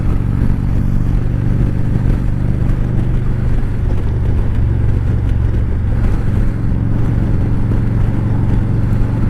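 A motorcycle engine roars continuously at high revs, a loud steady drone with rattling mechanical clatter and no pauses.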